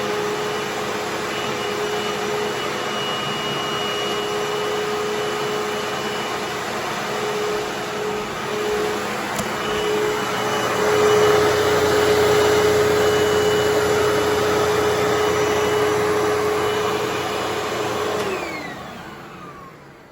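A 2009 Hoover WindTunnel bagless twin chamber upright vacuum cleaner with a rewired motor runs loudly for a long stretch, its motor whine rising in the middle, then spinning down near the end.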